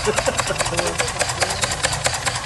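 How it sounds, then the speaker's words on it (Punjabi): A small homemade steam engine, here driven by air from a tank, runs with a fast, even chuffing rhythm of close, sharp pulses over a continuous mechanical hiss. "ਆ ਵੇਖੋ ਜੀ ਇੰਜਨ ਤਿਆਰ ਕੀਤਾ ਘਰੇ"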